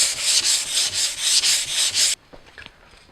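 A particle board pinball cabinet back is hand-sanded with 320 grit paper: a steady, close, rhythmic back-and-forth rasping of about eight strokes, then it stops abruptly into quiet handling noises.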